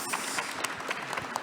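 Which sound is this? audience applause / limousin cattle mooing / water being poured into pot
audience applause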